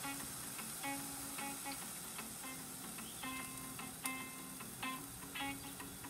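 Vegetables sautéing in a pan with soy sauce, salt and black pepper for homemade chicken fried rice, a quiet steady sizzle with faint clinks of a utensil against the pan, no voices.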